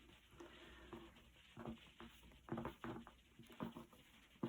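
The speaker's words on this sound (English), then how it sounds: "it's beginning to rain, if you can hear that" Rain patters on a conservatory roof, irregular soft taps and light drumming bursts over a faint steady hiss, quiet and close with no voices.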